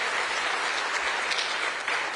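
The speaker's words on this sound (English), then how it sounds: "give Mac Parnell and the Georgia Faith and Freedom Coalition a round of applause" Sustained applause from a crowd at the Faith & Freedom Dinner in Atlanta, dense steady clapping filling the whole stretch without pause.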